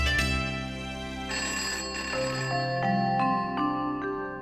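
A telephone rings late at night in a household scene from an Indian TV drama: a bright electronic melody of stepping tones, loud and close, with no talking.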